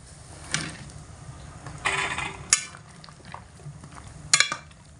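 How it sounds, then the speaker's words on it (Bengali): Chopped raw mango pieces tipped into a pot for jelly and stirred, with a few sharp clinks of a spoon against metal between quieter stretches of scraping and bubbling. "এবার এর মধ্যে কেটে রাখা সমস্ত আমগুলোকে দিয়ে দেব।"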